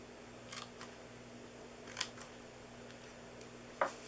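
Scissors snip paper for a DIY Hershey's Nugget Christmas treat box, a few faint, quick cuts spread out in a quiet room.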